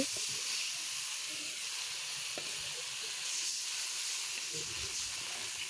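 Water poured into a hot pan of garlic paste that has been fried until browned sets off a steady, moderately quiet hiss of steam that holds evenly throughout, with no talking.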